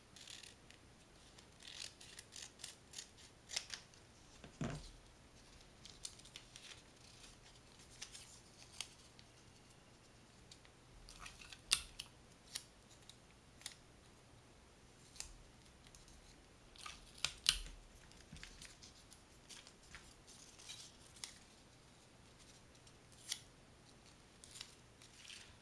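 Scissors snip paper into thin strips for origami Tanabata ring streamers, a quiet series of crisp, irregular cuts close by with short pauses between them.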